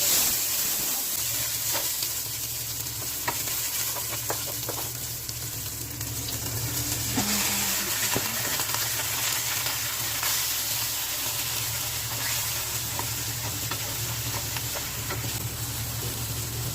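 Sotanghon glass noodles sautéing for sotanghon gisado sizzle steadily in a hot pan, a loud continuous frying hiss with occasional stirring scrapes throughout.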